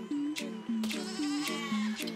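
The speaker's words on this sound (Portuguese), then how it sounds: "tem uma ovelha aqui" Sheep in the video game Besiege bleat four times in a steady rhythm, each cry a clear, fairly loud wavering tone with short gaps between them, with no talking.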